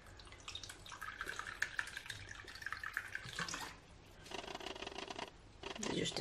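About a cup of vinegar is poured into a washing machine's liquid detergent compartment, giving close trickling and splashing liquid sounds with small plastic clicks and knocks.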